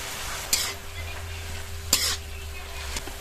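Washed greens and salt hit a pan of frying onion, garlic and spices, raising a steady sizzle punctuated by a few sharp scraping stirs of a spatula.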